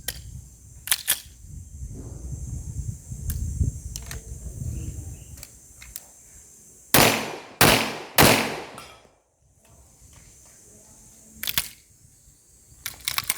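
Rapid pistol shots from a Caspian .40 caliber pistol at a shooting competition range, three close sharp cracks in quick succession mid-clip, with scattered clicks and handling noises before and after.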